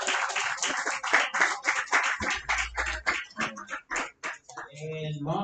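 An audience at a barber bootcamp graduation ceremony claps in an uneven, rhythmic patter, loud and close, with brief voices and cheers mixed in.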